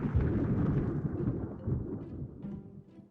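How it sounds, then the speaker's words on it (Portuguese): Thunder follows a lightning strike, a deep rolling rumble that starts loud and gradually fades over a few seconds, with later grumbles trailing off into quiet. "Dessa vez demorou bem mais pra gente escutar o trovão depois que viu o raio."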